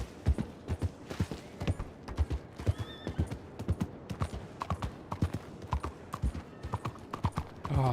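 Steady clip-clop of horse hooves on a hard surface, with a brief whinny partway through, fairly close and continuous, in a video game.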